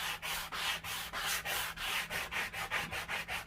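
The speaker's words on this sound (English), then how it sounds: "See how it's distressing in the edges just so nicely." Hand sanding distresses the painted edges of a wooden mesh-stencil hanging sign with soft strokes, a steady series of about fourteen scratchy back-and-forth rubs, close and moderately loud with no talking.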